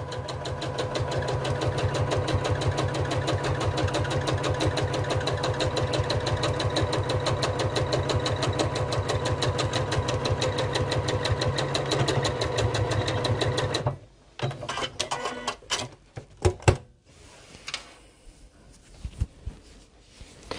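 Sewing machine fitted with a zip foot stitching a seam on a fabric bag, running steadily and loudly without a break for about fourteen seconds, then stopping and leaving scattered handling clicks and knocks.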